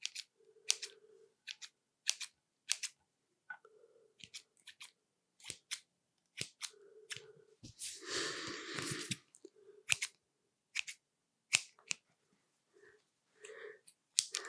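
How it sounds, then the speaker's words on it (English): Small scissors snip close to the microphone while eyebrows are trimmed, a string of crisp, quiet clicks in irregular bursts with a soft rustle midway, and no talking. "did you want your eyebrows little snip snip, tidy them up?"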